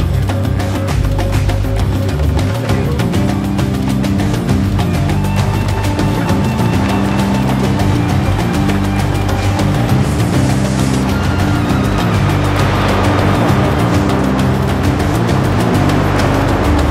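Bus riding along a road near Oslob, Philippines, with a steady, loud engine drone and road rumble filling the whole stretch, rising into brief hissing swells.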